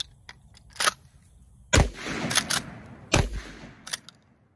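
Cowboy shotguns, a Winchester 1887 lever-action and a double-barrel coach gun, fire at an old pine tree outdoors: three sharp, heavy blasts about a second and a half apart, each with a short rumbling tail, plus lighter clicks of handling between.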